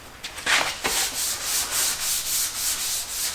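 A sanding block works over a guide-coated car body panel, giving a rhythmic back-and-forth scratchy rasp of steady strokes, close and alone.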